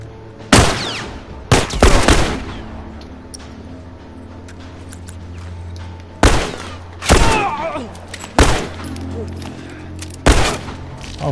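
Gunshots in The Last of Us, fired as several sharp, loud broadband bursts, some single and some in quick doubles, spread across the stretch with quieter game ambience between them.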